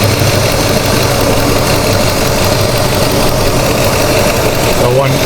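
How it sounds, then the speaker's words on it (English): A Holden VT Commodore V8 idles steadily, its low, even rumble holding close and constant throughout under a faint metallic clatter, with no talk over it. "I'll turn the engine off to show you"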